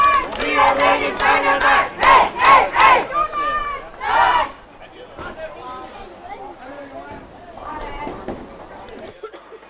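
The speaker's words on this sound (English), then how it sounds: "They're cheering a little bit extra every time they make a strike" A youth bowling team at the European Youth Championships erupts in loud, rhythmic group shouts and cheers after a strike, several bursting chants followed by softer chatter and scattered voices in an echoing bowling hall.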